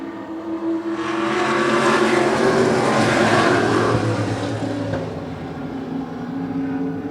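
Race cars roar steadily around the bumpy Wiscasset Speedway short track, engines droning loud and continuous as a pack passes, with a slight swell midway and no voices.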